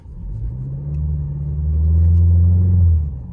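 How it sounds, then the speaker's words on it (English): BMW 330i G20 LCI with its B48 engine held on the brake before a launch, revs building into a loud, steady low drone that swells toward the end and stays constant, with no talk. "All the way on the brake, build the revs."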